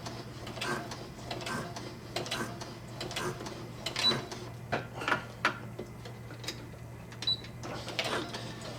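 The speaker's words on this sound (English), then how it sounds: "This sewing machine, this Brother SE-400, is really nice." Rapid mechanical clatter from a Brother SE-400 sewing machine stitching nylon ratchet straps in short bursts, with a steady low hum and occasional clicks between stitching runs.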